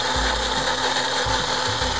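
A kitchen blender whirs steadily as it blends spinach, a continuous close motor drone with slight pitch shifts, heard on its own with no talking.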